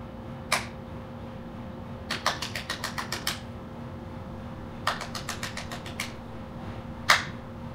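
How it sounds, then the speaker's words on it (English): Sharp hand claps ring out outdoors in a backyard, a single clap followed by quick runs of rapid claps, then another burst and a final loud clap, over a low steady hum. "a basic clap test right here in the backyard"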